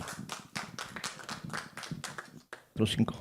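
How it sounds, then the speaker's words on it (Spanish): Audience at a talk on artificial voices in radio and podcasting welcomes the speaker with rhythmic, close clapping that briefly pauses, then a voice begins speaking. "Recibámoslo con un fuerte aplauso."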